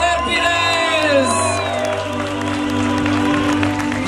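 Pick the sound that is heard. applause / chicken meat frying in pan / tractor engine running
applause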